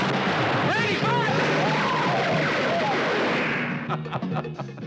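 A volley of gunfire from a 1973 police thriller film trailer, a quick cluster of sharp shots near the end after a stretch of loud voices and music.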